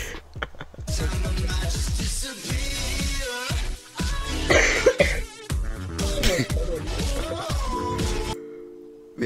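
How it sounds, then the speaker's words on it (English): A person coughs repeatedly in quick, rhythmic bursts, close and fairly loud, with some throat clearing and short gaps between fits. "my cough was like on the beat"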